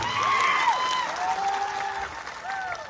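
A crowd at a public rally in Sankheda, Gujarat applauds to welcome the local MLA, a steady wash of clapping from many people with voices and tonal calls rising over it.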